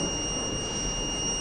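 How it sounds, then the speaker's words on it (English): The buzzer of a laser light security system sounding, a steady continuous high-pitched tone held for its full length, fairly quiet over a constant background hiss. "Now I am placing my hand near to this one, so we can see buzzer indication"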